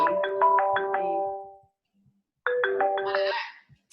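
A phone ringtone plays two bright, melodic runs of chiming notes, loud and close, separated by a brief silence, with no talking over it.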